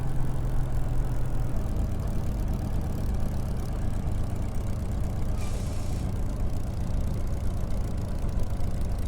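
Spitfire engine in Microsoft Flight Simulator during takeoff, a dense, loud, steady roar with constant low rumble throughout, no talk.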